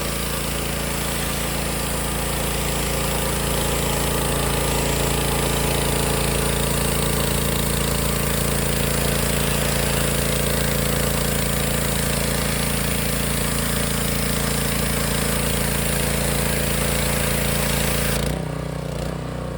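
A new Wilks USA TX750 gasoline pressure washer engine runs for the first time at a steady, loud, droning idle for a long stretch, then cuts off abruptly near the end.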